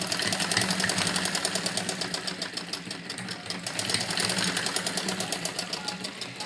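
A sewing machine stitching heavy suit fabric, a fast rapid-fire mechanical chatter of the needle running steadily throughout, close and loud, with no speech.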